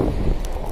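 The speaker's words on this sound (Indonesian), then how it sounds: "Oh, kita lihat angin bertiup cukup kencang." Strong wind buffeting outdoors on a university campus in Muroran, Hokkaido, at minus nine degrees Celsius, a loud continuous low rush against the microphone with no talking.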